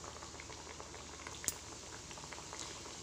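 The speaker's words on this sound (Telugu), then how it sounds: "ఇప్పుడు దీనిలో మనం ప్రిపేర్ చేసుకున్నటువంటి బిస్కెట్స్ ని ఒక్కొక్కటిగా ఇలా వేసేయండి" Wheat flour biscuits fry in a shallow layer of hot oil, giving a steady, faint sizzle and bubbling with occasional small pops and no voices.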